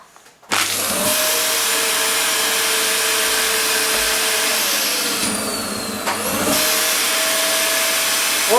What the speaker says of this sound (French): Et là, on active l'aspirateur.